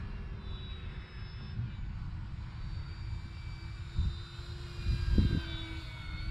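An E-flite RV-7 radio-controlled model airplane flies at a runway on a breezy day, its steady buzzing motor drone held throughout at moderate distance, with wind rumble and a few low thumps.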